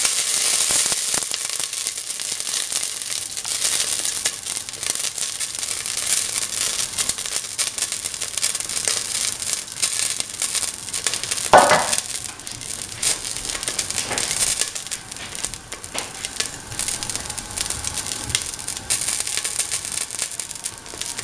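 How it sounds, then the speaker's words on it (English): Fenugreek seeds sizzle and pop in hot oil for a curried split chickpea dish, with a loud, steady frying hiss and scattered crackles throughout. "Let the fenugreek seeds pop."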